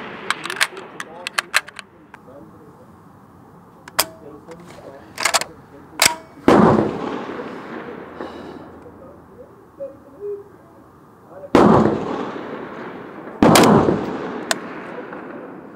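An SA80 L85A1 rifle firing 5.56mm rounds at a range fires several sharp, loud single shots at irregular intervals, some echoing, with quiet speech between them.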